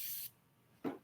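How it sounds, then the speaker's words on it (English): Peppermint spray bottle giving a short hissing spritz, close and crisp, followed after a pause by a brief duller puff or click. "that's how the peppermint spray sprays"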